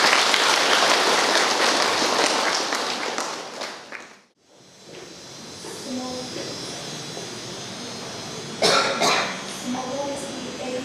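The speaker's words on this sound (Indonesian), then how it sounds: "Kita berikan tepuk tangan." Congregation applause for newlyweds after a Catholic church wedding: a dense burst of clapping fills the first few seconds, then fades away, leaving quieter hall ambience with a few faint sounds afterward.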